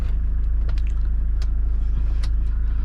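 A 2011 Mahindra Scorpio VLX with its 2.2-liter four-cylinder diesel engine idles along in first gear, producing a steady low rumble and hum with a few faint rattles over the top, and no one talking.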